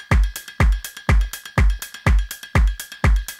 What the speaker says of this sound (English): So really simple drum groove, but there's a lot of character there.